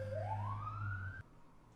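A single siren wail rising steadily in pitch over a low engine hum, cutting off abruptly partway through.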